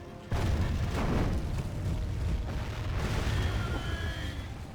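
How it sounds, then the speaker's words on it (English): Catapult artillery fire and explosions in a Total War battle with a Númenórean army, a heavy boom at the start followed by a continuous low rumble of impacts, loud and sustained. "You are free to fire at will."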